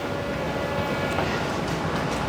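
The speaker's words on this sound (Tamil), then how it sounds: "இங்கேருந்து நம்ம ட்ரெயினில் வந்து பட்டு கேவ்ஸ் போகிறோம்" Metro train heading to Batu Caves from near KL Central, a steady loud rumble of wheels and motor filling the interior with no talk.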